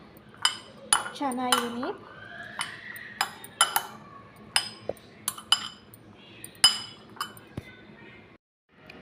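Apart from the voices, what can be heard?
mixing chickpea salad in a bowl, utensils clinking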